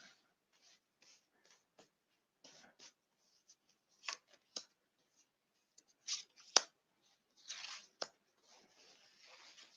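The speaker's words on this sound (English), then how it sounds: "I'm just shuffling the deck right now." Oracle card deck being shuffled by hand, a sparse series of soft close papery riffles and slides, with a few louder card snaps in the second half and quiet gaps between them.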